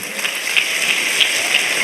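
A church congregation applauding, a steady wash of clapping from many hands held at an even level, loud and continuous, with no distinct voices.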